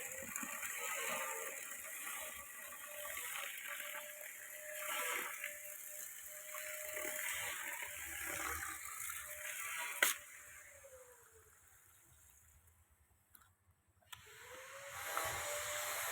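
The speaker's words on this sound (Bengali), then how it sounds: "এটা এই টিউবওয়েল থেকে জল টানছে" A Wilo Crown AXA 10 half-horsepower pump draws water from a tubewell inside a cupboard workshop, giving a steady close hissing whir with a brief dip near the end and no talk.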